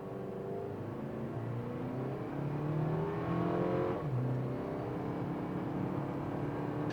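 A 2025 Toyota 4Runner Limited in tow-haul mode, pulling a trailer, is floored from inside the cabin. A steady, loud engine drone climbs in pitch through the gears, with a brief dip around a shift and a continuous rumble throughout.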